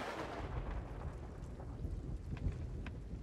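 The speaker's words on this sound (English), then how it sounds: "to wait for the drizzle to stop" Steady rain with low rumbling thunder at sea in the pirate video game Sea of Thieves, a continuous wet wash over deep rolling rumble, with a few faint brighter patters and no talk.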